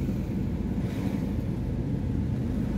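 Steady, roaring wind buffeting the microphone, a constant low rumble throughout with no voices.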